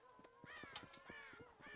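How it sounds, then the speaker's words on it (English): Several crows caw repeatedly in the Red Dead Redemption video game, their harsh calls overlapping in a rough rhythm over a steady background hum, without talk. "God damn crows!"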